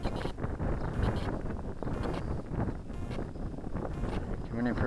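Strong wind gusts buffet a microphone outdoors at a model boat launch, a constant loud rumble and roar that runs through the whole stretch.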